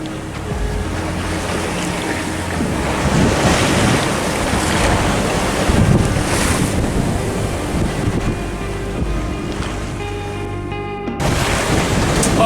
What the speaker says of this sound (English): I am pounding my way through 6 to 8 footers